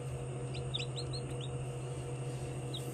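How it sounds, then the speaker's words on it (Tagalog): High, thin peeping chirps from newly hatching chicks in an incubator come in a scattered burst early on with one more later, faint over a steady electrical hum. "maririnig ninyo yung pagsisiyap ng sisiw"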